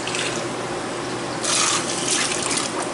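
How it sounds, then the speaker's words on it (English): Water runs from a sink tap into a container for a humidifier, a steady close hiss that swells louder about halfway through as the flow strengthens, with no voices. "I'm gonna put some water in here from the sink though"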